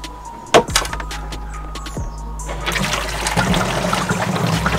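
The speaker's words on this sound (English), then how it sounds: "we got water in the sink, and we're gonna test it to see if our drain is leaking" Water drains from a small sink in a converted van during a leak test, a gurgling, trickling flow with a few knocks and clunks, growing busier and louder toward the end, with no talk.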